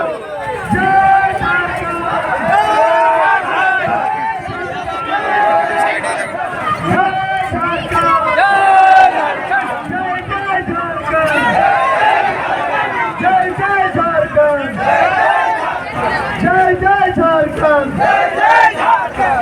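A large protest crowd at Nimdih Mod chants slogans against Hemant Soren over the 60-40 policy, many voices shouting together in a loud, steady, rhythmic call-and-response that continues throughout.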